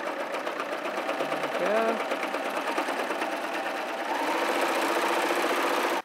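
A sewing machine runs steadily as it stitches into fabric for a glasses case, a continuous mechanical whir with a brief pause near the middle before the stitching picks up louder; a voice briefly speaks over it.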